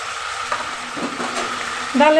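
Dal fries in oil with salt in a pan, a soft sizzle running underneath faint stirring and scraping, rising to a louder hiss near the end.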